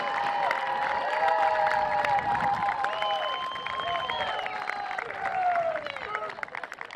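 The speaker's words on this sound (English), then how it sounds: "Let's all of these outstanding student athletes, coaches, and staff a round of applause." A large crowd claps, cheers and whoops continuously at the 2025 NCAA Division II field hockey championship awards ceremony between Shippensburg and Newberry, with voices and applause blending into a loud, steady roar.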